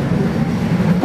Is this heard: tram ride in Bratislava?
yes